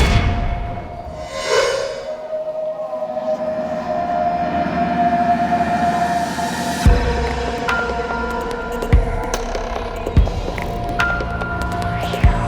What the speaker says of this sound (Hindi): रेलवे प्लेटफॉर्म है, पब्लिक प्लेस